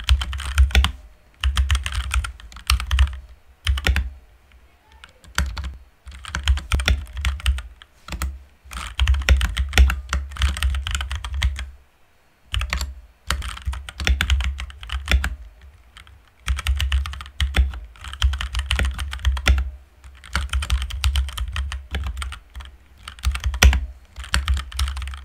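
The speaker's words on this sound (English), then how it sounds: "That's what the Gateron Brown switches sound like." Typing on a Blitzwolf BW-KB1 mechanical keyboard with Gateron Brown switches, a close, steady stream of thocky keystrokes in bursts separated by short pauses, with no talking.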